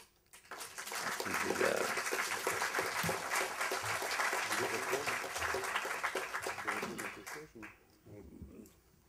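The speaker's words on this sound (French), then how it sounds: "je dis vive les Klarsfeld et applaudissons-les" An audience breaks into sustained applause at a public talk honouring the Klarsfelds, the clapping swelling quickly, holding steady, then tapering off near the end, with voices mixed in.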